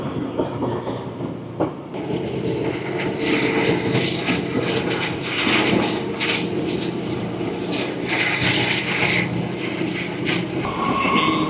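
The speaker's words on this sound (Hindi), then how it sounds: "बहुत तेज़ रफ्तारी से ZCU जो है वो रावल एक्सप्रेस को दौड़ा के ले जा रहा है।" A loud, steady roar of the Rawal Express at speed in Pakistan, heard from inside an economy class coach: continuous rumble and rattling wheels, close and unbroken, with no talking.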